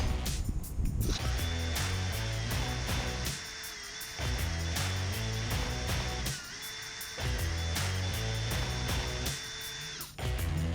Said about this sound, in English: I've almost drilled completely through the bolt